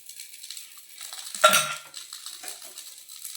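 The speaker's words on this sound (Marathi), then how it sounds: "लोणी आपल्याला पसरावून घ्यायचं आहे" Butter spread across an Udupi-style sponge dosa in a hot pan, soft scraping and light utensil contact with one sharper clink partway through, otherwise quiet and close.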